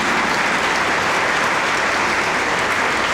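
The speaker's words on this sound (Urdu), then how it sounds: "ان کے لیے زوردار تالیاں، اپنے لیے بھی۔" Church congregation applauding loudly after the priest's call during a Sunday Mass, a dense, steady wash of many hands clapping at close range from start to finish with no voices over it.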